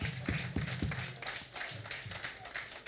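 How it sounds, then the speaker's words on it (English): A crowd at a party constituency nomination event gives brief scattered clapping, a few sharp claps up close over a broader patter of applause from the room. "A lot of people, clap for him."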